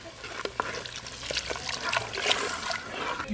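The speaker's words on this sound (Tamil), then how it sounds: "இது கூட அம்மி கழுவுன தண்ணியும் சேர்த்துக்கலாம்" Rinse water from washing a stone grinding slab is poured into a pan of tamarind-water curry (kuzhambu) being made in a village kitchen, giving a soft, close trickle and splash with faint clinks.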